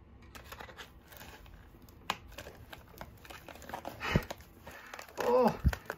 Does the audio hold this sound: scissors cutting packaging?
yes